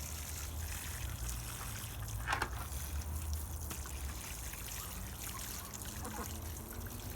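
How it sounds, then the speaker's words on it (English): Water poured onto grape cuttings, a faint, steady trickle and splash over a low outdoor rumble, with no talk. "You just put a lot of water in it?"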